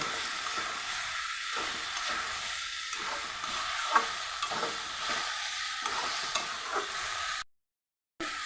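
Bean curry sizzles steadily in a pan while being stirred, with a hissy frying sound and rhythmic soft scraping pulses throughout, before cutting abruptly to silence near the end.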